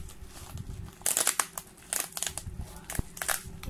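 Bubble wrap packaging being unwrapped from a newly delivered ring light, with close, irregular crinkling and crackling bursts that come and go over a quiet background.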